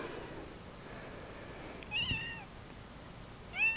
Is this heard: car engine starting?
no